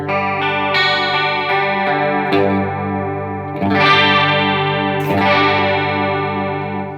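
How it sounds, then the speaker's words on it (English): An electric guitar runs through an Analogman Chorus pedal, strumming and arpeggiating chords with a shimmering, warbling vintage chorus sheen, loud and close with ringing sustain and no voices. "next up we have the Analogman Chorus, which by itself sounds like this"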